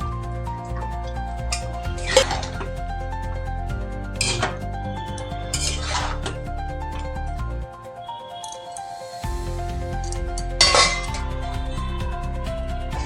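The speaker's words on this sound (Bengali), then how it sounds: "ভেজে রাখা সবজিগুলো আমি দিয়ে দিচ্ছি।" Pre-fried vegetables go into a cooking pot of mixed vegetable curry, bringing several sharp clinks of utensils against the pan over a low steady background hum, with a brief quiet gap midway.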